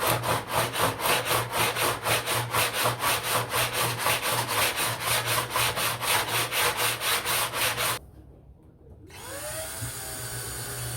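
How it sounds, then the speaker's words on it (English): An 80-grit sandpaper hard block scrubs the edges of an RV fender in quick, even back-and-forth strokes, a close, raspy rhythm repeating for about eight seconds before it stops. Brief silence follows, then quieter handling noise. "put some 80 grit on a hard block and clean up all these back edges"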